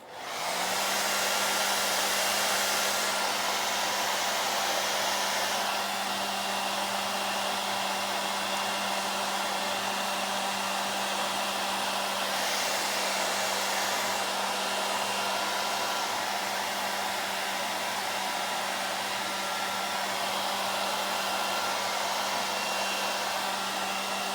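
A hair dryer blows on a beard with a loud, continuous whirring roar that holds steady from start to end, with only slight shifts in tone as the airflow moves.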